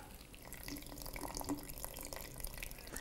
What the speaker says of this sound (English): And then we're going to squeeze out all of the almond milk.